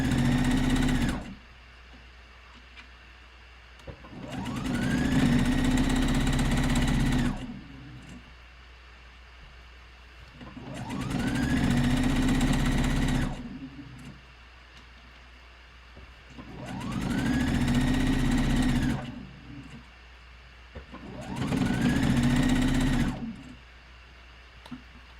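A sewing machine stitches lounge pants in four separate runs, each a few seconds long, with a steady whirring hum. Quiet pauses fall between the runs, and the machine sounds close and moderately loud with no talking.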